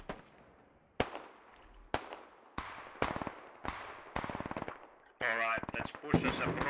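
Suppressive gunfire in the video game Squad, a series of loud, evenly spaced gunshots about one second apart, each with a long echoing tail, ending in a sustained burst of rapid automatic fire.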